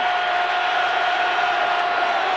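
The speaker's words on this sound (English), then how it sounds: "The crowd, as you can hear, is in a frenzy." Dense, steady roar of a stadium crowd in a frenzy at a Patriots–Colts AFC Championship football game, a loud continuous wash of cheering with no break or talk over it.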